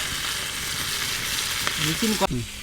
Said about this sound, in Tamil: காணாங்கத்தை மீன் வாங்கி ஃப்ரை பண்ணிகிட்ருக்கோம்